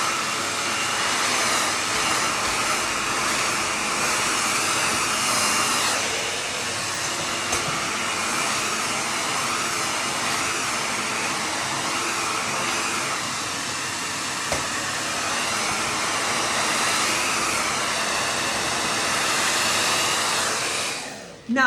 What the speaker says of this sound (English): So you grab your hair dryer, it's gonna get noisy